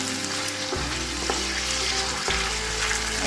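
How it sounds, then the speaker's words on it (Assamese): Paneer frying in hot oil in a wok makes a loud, continuous close sizzle, with a few clinks of a utensil against the pan and no one talking. "এতিয়া মই অকণমান পনীৰখিনি ফ্ৰাই কৰি লওঁ"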